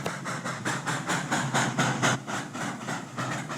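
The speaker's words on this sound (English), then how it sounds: "Danielle arrived with the train and Mr. Regan." A model train rolls in, likely in a tabletop railroad setting, with a steady rhythmic clickety-clack of wheels over rail joints, repeating evenly and fairly close, with no talking.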